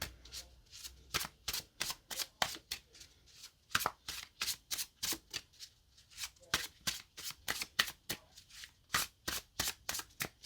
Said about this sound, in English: Actually, I really like how this shuffles.